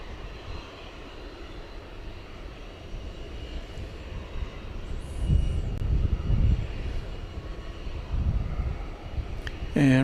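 Turkish Airlines Boeing 787-9 taxiing at night at DFW Airport, a steady distant engine rumble that swells briefly in the middle and again near the end.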